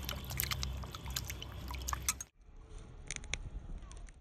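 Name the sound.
washing sweet potatoes in water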